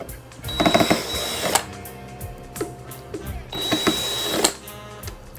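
A screwdriver or power driver whirs in two bursts as screws come out of a JBL Venue Sub 10 subwoofer, mechanical and close, with clatter and handling noise between.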